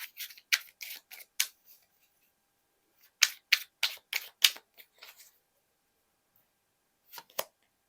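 Tarot cards are shuffled and drawn in quick crisp bursts of riffling and slapping, two close clusters separated by a pause of near silence, then a brief final flick, with no speech.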